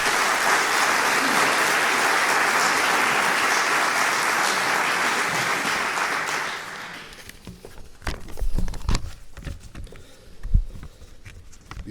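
A crowd applauds at an inauguration ceremony in Oviedo, Asturias, with steady, dense clapping for about seven seconds. It then cuts off, leaving scattered knocks and shuffling.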